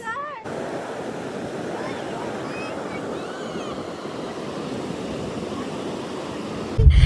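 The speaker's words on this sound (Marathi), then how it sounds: "सगळीकडे समुद्रच समुद्र." Sea waves break steadily at Vijaydurg fort on the Konkan coast, a continuous wash of surf and wind that stays loud throughout, ending in a sudden low thump.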